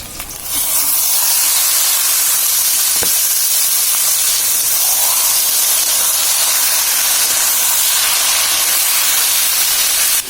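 Hilsa fish heads and pieces frying in oil as taro leaves go into the pan, giving a loud, steady hiss and sizzle that holds for about ten seconds, close up, with no talking.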